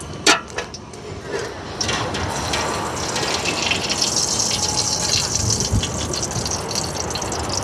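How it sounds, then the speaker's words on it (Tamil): Palm oil being poured into a cooking pan gives a steady gushing, liquid rush that builds and holds for several seconds, fairly close, with no talking. "அப்படி புரிஞ்சிட்டு எண்ணெயை தான் ஊற்ற போகிறேன். பாமாயில் தான் ஊற்ற போகிறேன்."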